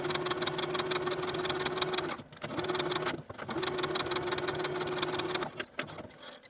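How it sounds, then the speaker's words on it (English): A sewing machine set to its longest stitch runs basting stitches along a sleeve cap, a close, rhythmic whirring hum that stops briefly twice before resuming and tapering off. "going to sew basting stitches all along the sleeve cap until we get to the top of the curve on the other side"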